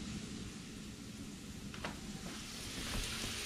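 Potatoes frying in olive oil, a steady, soft sizzle that carries through without a break, close and fairly quiet with no talking.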